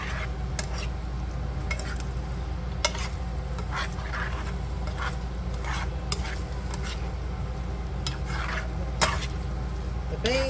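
Canned Wendy's chili with soft noodles being stirred in a pot, a spoon scraping and clinking against the metal in repeated strokes over a steady low background hum, fairly close and moderate in level.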